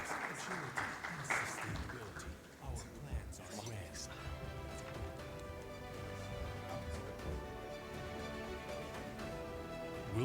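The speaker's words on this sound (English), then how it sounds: "Merci encore une fois, avec vos applaudissements, à tous nos" Audience applause for the panelists closing a panel session at a conference forum, a dense crowd clapping that starts mixed with voices and settles into steady, sustained clapping filling the room.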